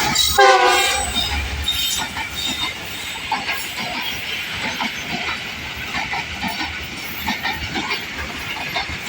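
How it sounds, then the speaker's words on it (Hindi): A train led by locomotive 9019 runs through Malir Colony station on its Karachi Cantt to Rawalpindi route at about 70 to 75 km/h. It opens with a loud horn blast, then a continuous rushing rumble with rhythmic wheel clatter. "धूल उड़ाती हुई आ रही है और 9019 लोकोमोटिव लीड कर रहा है।"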